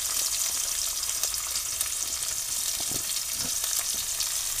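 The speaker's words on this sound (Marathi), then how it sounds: "परत मी ह्याच्यात थोडीशी लसूण टाकतो आणि हा उभा चिरलेला कांदा आहे" Sliced onion and garlic sizzle in hot oil in a pan for vegetable khichadi, a close, steady frying hiss with occasional louder crackles and pops.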